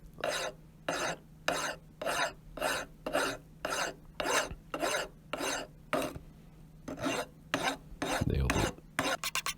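A metal hammer head, a Punch Lok P Chicago, rasped with a hand file in steady back-and-forth strokes, about fifteen even passes at close range, with a brief clunk near the end and a short spoken remark.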